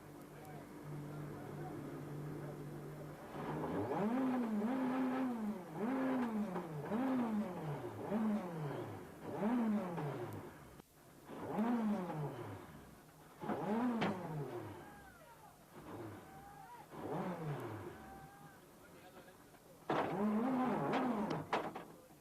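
A rally car with a faulty throttle at the 2001 Monte Carlo Rally, its engine revving up and dropping again in repeated uneven bursts, loud and close, with a commentator talking over it.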